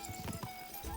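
Horse hooves clip-clop in a rapid, steady rhythm under game ambience in Kingdom Come: Deliverance II, close and moderately loud for about a second.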